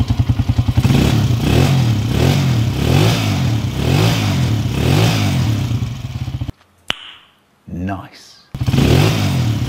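A freshly rebuilt Honda TMX155 motorcycle engine idles loudly and close with a steady chugging pulse, cuts out briefly, sputters, then restarts, while someone speaks over it.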